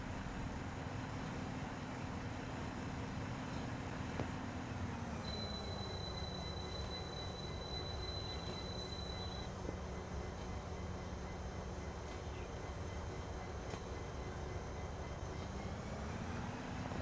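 A train departs Vancouver in the Train Sim Pro USA game: a steady low rumble of wheels and engine, a thin high squeal that holds for several seconds, and a low hum that shifts in pitch as the train moves off.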